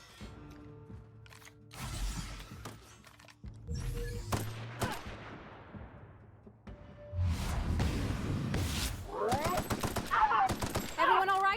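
Assault rifle fire in The Outer Worlds, a sci-fi shooter, comes in sharp bursts of loud, close shots with rapid clustered cracks toward the end, over a layer of game music and effects.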